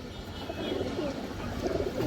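Soft, low pigeon cooing from a silver-variety pigeon at a pigeon seller's coop, a steady murmuring coo that runs continuously through the moment at moderate closeness with no voices over it.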